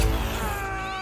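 A cat in a video game gives a single short meow that tails off within a second, heard alone.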